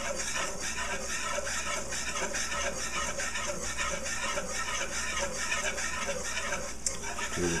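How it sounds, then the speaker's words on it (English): A half cup of flour cooks into a roux for a seafood stew under continuous stirring, a steady soft scraping and gentle sizzle that holds an even level throughout with no voices. "Stir this around here."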